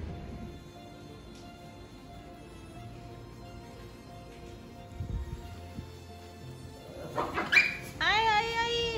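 A puppy whimpers and yelps in high, wavering cries toward the end, after a stretch of quiet background and low household sounds, with people talking nearby.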